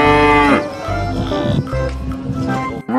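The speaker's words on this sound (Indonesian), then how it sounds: "Wow, indukan sapi." A mother cow in a video game about hauling animals by truck lets out a loud, close moo, followed by lower, shorter bovine calls.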